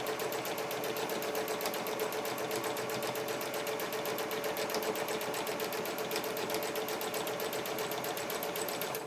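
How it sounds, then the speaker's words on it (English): A sewing machine stitches fabric into a tube for a nesting basket, running in a steady, continuous rapid whir with no pauses and no talk. "we're going to sew that into a tube"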